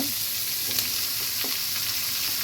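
Onions and tomatoes fry in a pan with a steady close sizzle, broken by a few soft stirring scrapes.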